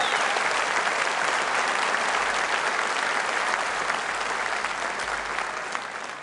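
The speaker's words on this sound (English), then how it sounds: "Give Richard Tice a round of applause." Loud, continuous applause from a large crowd at a Reform UK political rally in Birmingham, a thick steady roar of clapping that tapers slightly at the end.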